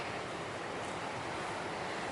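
Ocean waves break at a surf beach, a constant loud wash of surf mixed with wind rumble against the microphone.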